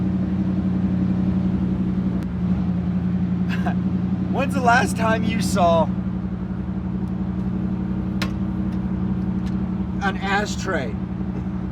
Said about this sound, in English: I'm scared to let my foot off the gas because I'm hoping it doesn't die out.